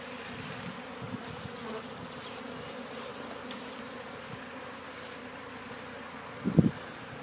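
Honey bees hum steadily around hives at a spring apiary, a dense, continuous drone of many wings close by, with individual bees buzzing past and a brief louder thump near the end.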